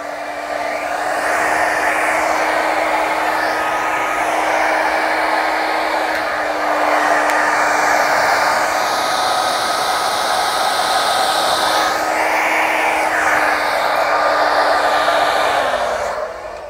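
A Conair 1875 hair dryer blows across an acrylic paint pour with a loud, close, steady whirring roar that runs without a break and eases off only at the very end.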